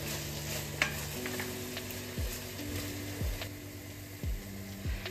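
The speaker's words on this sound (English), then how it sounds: "Add in your chopped tomatoes and mix up everything and continue to cook" Chopped tomatoes cooking in a pan for pasta are stirred with repeated scraping strokes over a soft, continuous sizzle, fairly quiet and close, with no voices.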